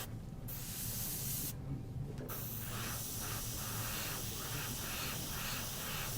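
An airbrush sprays super metallic paint onto an aeroplane scale model, a steady close hiss that breaks off twice in short pauses before running on continuously.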